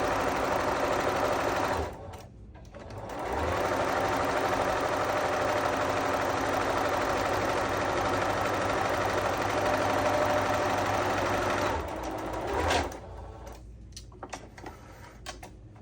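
A sewing machine stitches a quilt block seam, its rapid, steady mechanical whir running close and continuous, with brief pauses near the start and near the end followed by a few light clicks.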